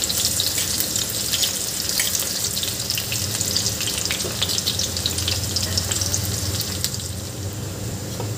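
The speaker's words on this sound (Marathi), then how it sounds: "यामध्ये कांदा घालून घ्यायचा आहे। आणि कांदा छान परतून घ्यायचा आहे।" Chopped onion sizzles and fries steadily in hot oil with cumin in a pan while cooking a Maharashtrian potato curry, a continuous close crackle with no talking.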